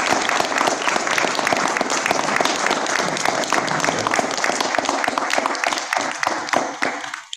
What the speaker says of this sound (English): Can we get another round of applause for staff?